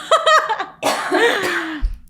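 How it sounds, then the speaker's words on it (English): A person in a room has a sudden coughing attack: a few quick, hoarse coughs followed by a longer, strained rasping fit, close and loud. "I'm about to have a coughing attack"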